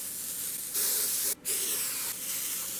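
A continuous hiss of aerosol spray close up, growing stronger with a brief pause in the middle before resuming steadily.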